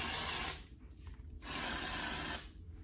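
L'Oreal Morning After Dust dry shampoo is sprayed into hair in two bursts from an aerosol can, each a steady hiss lasting about a second, close and clear with a short pause between them.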